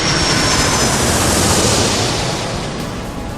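Aircraft taxiing at an airport in the game Airport Madness 3, a steady, loud broadband engine roar that holds constant throughout and eases slightly toward the end, with no voices.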